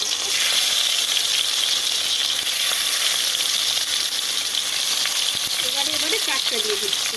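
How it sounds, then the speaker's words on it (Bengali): Ash gourd leaves coated in a mustard paste batter fry in hot oil with a steady, dense sizzle. Near the end, a brief burst of faint talk sits under the hiss. "এইভাবে সব পাতাগুলোকে ভেজে নেব। আবারও ওই সেম তেলে দিয়ে দিলাম"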